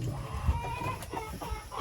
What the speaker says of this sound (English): This is Ash. He is the sweetest little rooster.